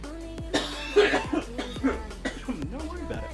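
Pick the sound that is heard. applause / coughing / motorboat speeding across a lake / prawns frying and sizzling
coughing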